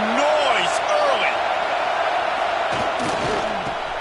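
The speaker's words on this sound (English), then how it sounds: "This crowd bringing the energy and noise early" Roaring stadium crowd at a Texas A&M college football game, a dense, loud, continuous wall of cheering and yelling with scattered louder whoops rising over the sustained noise throughout.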